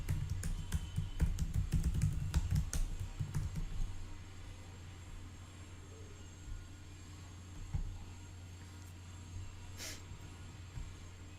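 Typing on a computer keyboard while entering a password, a quick run of close clicking keystrokes in the first few seconds, then quieter room noise with a few scattered taps.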